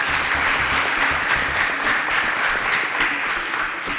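A studio audience at a quiz show claps for a contestant in a loud, sustained burst of applause that stays even throughout, with no one speaking.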